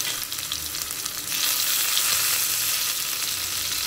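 Coriander and ginger drop into hot oil for samosa filling, a bright hissing sizzle that swells louder partway through and keeps frying steadily, close up with no speech.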